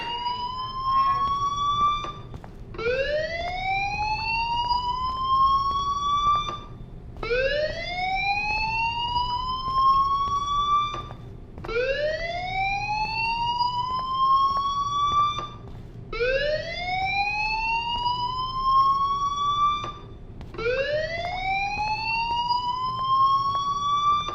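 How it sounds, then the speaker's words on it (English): A fire alarm in the video game Life Is Strange wails in a repeating cycle, each tone sweeping upward then cutting off, six loud rising whoops in steady rhythm over a low background hum. "do you hear that fire alarm? That means you should be outside."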